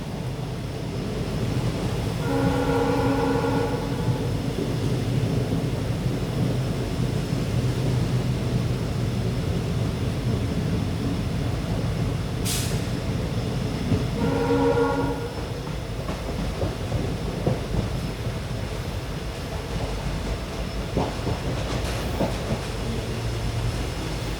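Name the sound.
Mangaluru-Bengaluru special train slowing for level crossings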